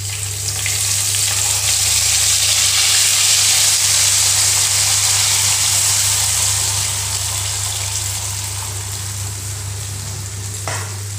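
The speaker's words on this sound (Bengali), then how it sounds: "এবার আমি সর্ষের জলটা দিয়ে দেব।" Mustard water is poured into a pan of frying hilsa fish, setting off a loud, dense sizzling hiss with a bubbling, gushing edge over a low steady hum, easing slightly toward the end.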